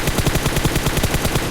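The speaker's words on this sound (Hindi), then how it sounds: "मैंने काफ़ी गोलियां चलाई और फटाफट वो गोलियां चलाते हैं" Rapid machine gun fire in PUBG Battlegrounds Mobile India, a loud, steady stream of evenly spaced shots rattling without pause for the whole stretch.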